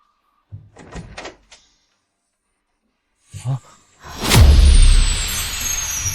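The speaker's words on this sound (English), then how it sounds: "Go open the door." A house front door is opened with a short creak and a loud whoosh of air and rustle that swells and lingers, following a few quiet thumps or footsteps, with no voices.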